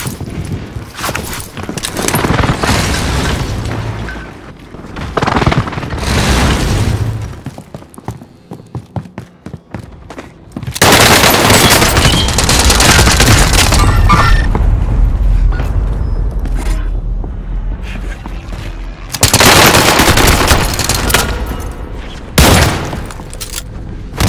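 An enemy precision airstrike in Call of Duty: Modern Warfare pounds down in repeated loud bursts of gunfire and booming blasts, separated by short quieter gaps.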